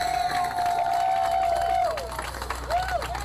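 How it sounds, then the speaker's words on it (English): Crowd at Milwaukee's 2024 Juneteenth Parade applauds and cheers under a loud ringing tone, a mix of clapping and voices that stays steady before easing. "can we give him another round of applause from Milwaukee?"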